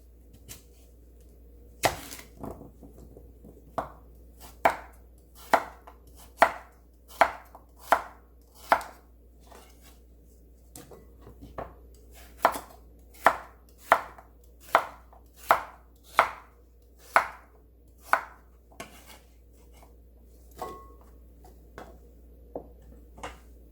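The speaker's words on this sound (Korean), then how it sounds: "당근을 썰어줍니다." A knife slices through carrots on a cutting board in a long, steady series of about twenty sharp, close chops at a slow even pace, and the knocks fade slightly toward the end.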